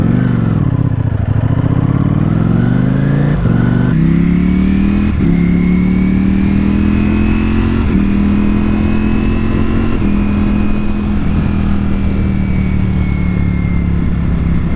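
A Ducati Panigale V4 S motorcycle cruising in fifth gear at about 40 mph in traffic: a loud, close, steady engine drone with slight pitch rises as it accelerates, plus brief throttle blips and wind rush.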